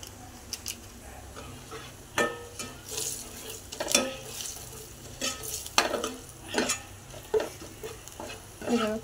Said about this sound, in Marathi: फोडणी छान भाजलेली